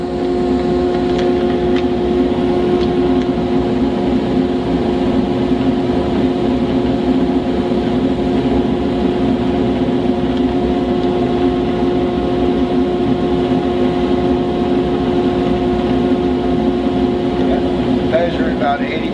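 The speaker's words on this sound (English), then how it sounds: "we're going to start the unit up. I have to mention first that we have a new" A new improved blower unit runs steadily and loudly for the whole stretch, a constant droning hum with strong tonal whine and no pauses, close to the listener.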